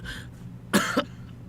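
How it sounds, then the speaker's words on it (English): A Hakuoki character on PS3 coughs hard in two harsh, close bursts, the second shorter, after a brief faint voice and over a quiet hum. "He was bent nearly double and coughing uncontrollably, his entire body shaking with each cough."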